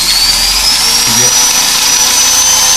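Power drill boring into wood while making a case for an Altai jaw harp, a loud steady high motor whine running throughout with a slight rising pitch and a low rumble beneath.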